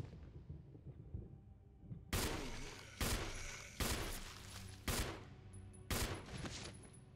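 Gunshots fired in the video game Resident Evil HD, five sharp, loud blasts at roughly one-second intervals, each with a short decaying tail, standing out over low background game sound.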